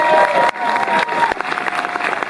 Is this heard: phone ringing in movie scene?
no